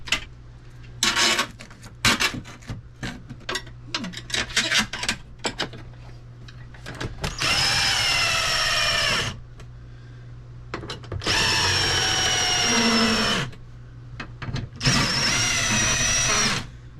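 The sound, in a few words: power drill bolting RV air conditioner back up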